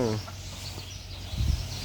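Chickens cluck on a small self-sufficiency farm raising ducks and hens, short soft clucks close by over a steady outdoor hum.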